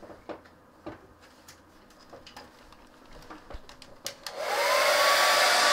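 A hair dryer used to dry a painting of pussy willows in an art lesson: a few light taps and handling knocks, then the dryer switches on and runs as a steady close whoosh for the final second or so.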